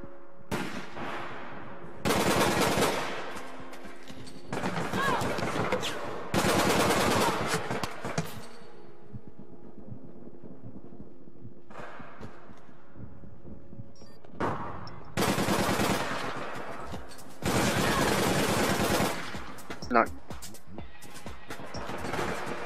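Bursts of automatic gunfire from the video game APB Reloaded, several loud sustained volleys of a few seconds each separated by brief lulls, close and dense with rapid repeated shots.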